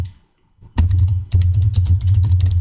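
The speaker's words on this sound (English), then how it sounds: "oops, typing in the wrong chat." Rapid bursts of keystrokes on a computer keyboard during a Magic: The Gathering highlander stream, loud and close, starting after a brief quiet pause and continuing in an uneven, clattering rhythm with no talk.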